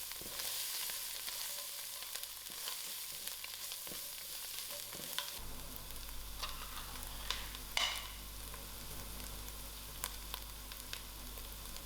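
Lamb mince sizzles in a pan with mixed herbs and paprika while a utensil stirs it, a continuous crackling fry broken by occasional scraping strokes and knocks against the pan.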